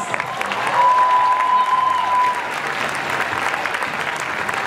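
Applause fills a student Malaysian night performance hall, a steady dense clapping from the audience with faint crowd murmur and a thin tonal whine in the first seconds.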